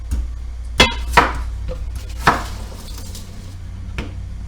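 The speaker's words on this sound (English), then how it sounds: "we're going to cut the potatoes into nice small chunks" Knife chopping potatoes into small chunks on a cutting board: a few sharp, separate chops spaced irregularly, close and clear over a low steady hum.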